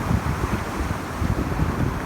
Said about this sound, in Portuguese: esse som rouco do vento, dessa batida do vento que o meu celular gravou